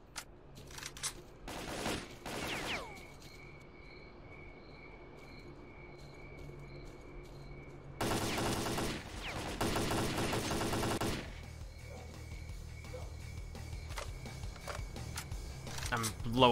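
AK rifle fire in the shooter S.T.A.L.K.E.R. Clear Sky: several sharp bursts early on, then a longer sustained loud stretch of shooting midway, over a steady hum with occasional tonal game sounds.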